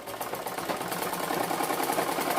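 A sewing machine runs steadily while double-stitching a bolster pillow cover, giving a close, continuous mechanical whirr with a fast rhythmic chatter, unbroken and with no talking.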